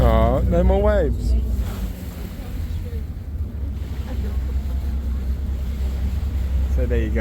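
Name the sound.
boat moving through waves, Venice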